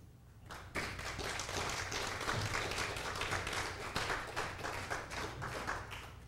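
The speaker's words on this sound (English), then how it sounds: "give them a big round of applause" A church congregation claps in a sustained round of applause that starts abruptly after a brief quiet moment, dense, fairly close and continuous with no voices over it.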